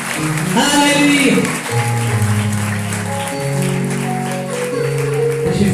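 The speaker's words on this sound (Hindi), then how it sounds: "यीशु के जलाल के लिए जोरदार तालियां हो जाए" Loud applause fills a church meeting hall, steady clapping held under a swelling musical backing for several seconds.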